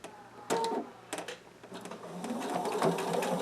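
A sewing machine stitches and back-stitches a fabric face mask with a nose bar, running in short bursts that start and stop, then settles into a steadier whirring run, close and fairly loud.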